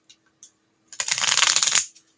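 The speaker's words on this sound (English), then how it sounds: "I like to mix them a couple of times just to make sure they're nicely shuffled." Tarot cards being shuffled by hand, a dense riffling burst lasting about a second, close and clear, preceded by a couple of light taps in an otherwise quiet room.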